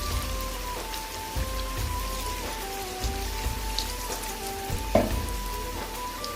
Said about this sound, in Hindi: ये भी पकोड़े हमारे फ्राई हो चुके हैं